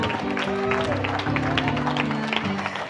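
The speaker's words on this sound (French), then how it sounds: "Acclame pour Jésus." A church congregation claps and cheers for Jesus during an evangelical service, steady applause with crowd voices and music tones underneath.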